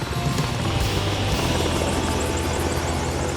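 A helicopter at Lake Hoare field camp in Antarctica, its rotor chop and turbine whine held as a loud, continuous drone with no voices.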